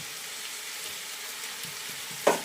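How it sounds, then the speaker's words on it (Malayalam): Chicken biryani simmering in a pot with a steady low sizzle, a few soft stirring scrapes, and a short louder clatter near the end as four medium tomatoes go in. "4 തക്കാളി ഇതിലിട്ട് നന്നായിട്ട് ഇളക്കി കൊടുക്കുക"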